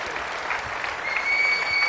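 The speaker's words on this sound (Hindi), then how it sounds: "तो एक बार जोरदार तालियों से मनोज जी को जरूर बताइए" Audience applause at a plenary session of an Institute of Chartered Accountants of India (ICAI) conference, steady clapping from a crowd that swells slightly louder toward the end.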